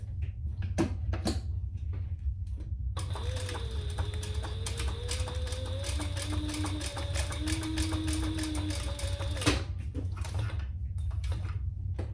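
A sewing machine stitches a tote bag, a steady mechanical whir of rapid needle strokes that starts around three seconds and stops near nine and a half, with faint clicks before and after.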